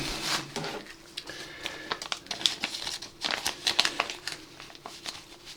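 Woodland Scenics field grass, a medium static grass tuft, is pulled apart by hand in soft, faint crinkly rustles and small tearing snaps scattered over a few seconds.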